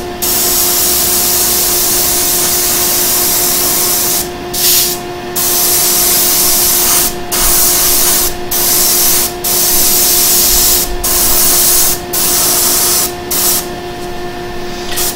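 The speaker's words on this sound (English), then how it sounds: "it's important that you spray from different angles because there's a lot of texture on them" Aerosol spray can coating textured miniature wargaming bases for Wrath of Kings, a loud steady hiss in repeated long bursts separated by brief pauses, close up with no talking.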